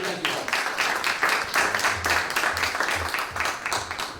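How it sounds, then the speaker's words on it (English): Audience at a conference session gives a round of applause, steady scattered clapping from a moderate crowd continuing for several seconds at a fairly even level, with no talk over it. "Let's give him another round of applause."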